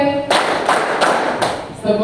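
A classroom group claps in unison during a student-teacher practice lesson, three loud, close bursts of clapping with brief pauses between them.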